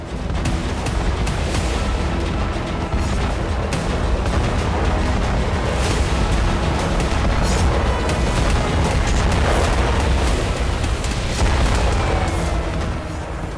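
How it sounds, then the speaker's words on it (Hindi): Ukrainian drone strikes set off heavy explosions at Russian sites such as oil refineries and gas facilities, a dense, continuous roar of booms and blasts with sharp bursts cutting through for the whole stretch. "यूक्रेन के ड्रोन से बड़े धमाके"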